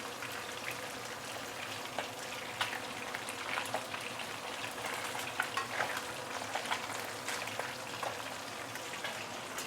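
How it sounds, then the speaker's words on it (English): Fish deep-fries in a wok of oil, giving a soft, steady bubbling sizzle with scattered small pops, faint and continuous throughout. "So each side we will deep fry for probably about 2 minutes lah."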